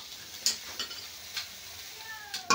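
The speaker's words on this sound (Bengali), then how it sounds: "সয়াবিনটা বেশ ভালো করে আমি ভেজে নিয়েছি" Soybean chunks frying in oil in a pan, a soft continuous sizzle broken by a few sharp clinks and scrapes of a utensil, close and moderately quiet, with no talking.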